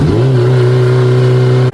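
A car engine running with no exhaust fitted, a loud steady raw drone held close up for nearly two seconds before it cuts off abruptly.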